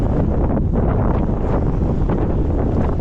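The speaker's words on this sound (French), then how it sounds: "Regardez-moi ce vent de col." Strong wind roars continuously across the microphone over a mountain pass in France's Sainte-Baume massif, a dense, unbroken gusting rush with no voices.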